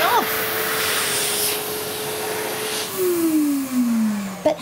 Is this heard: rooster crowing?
no